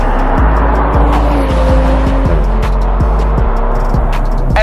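Loud BMW M340i xDrive accelerating hard, the engine note climbing steadily through two gear changes with brief drops at each shift, a close, sustained roar with no voices.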